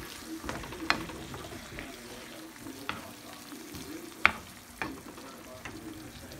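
Egg frying with green beans, tomato, chilli and onion in a pan, a quiet steady sizzle punctuated by several sharp stirring knocks and scrapes at irregular intervals.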